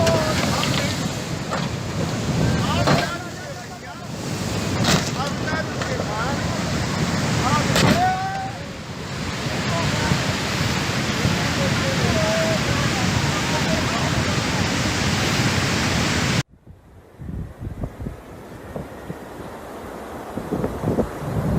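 Rough floodwaters in northern India sweep away a stuck bus, rushing and churning loudly under heavy wind buffeting on the microphone, with some voices. The roar cuts off abruptly near the end into quieter, choppier water sounds.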